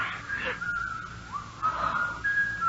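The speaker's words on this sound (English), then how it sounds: "There's that whistling again." Eerie whistled tones in a radio mystery drama, a sliding thin whistle that rises and falls, repeating in a few wavering phrases over a quiet room hum, moderately faint.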